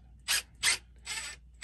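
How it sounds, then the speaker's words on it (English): A screw is driven with a ratcheting driver, heard as three close, short bursts of rasping clicks separated by brief pauses, with no talk. "Just put your screw in there like you're screwing it into the wall and run it through."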